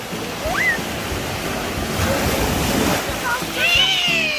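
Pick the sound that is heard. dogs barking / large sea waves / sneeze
large sea waves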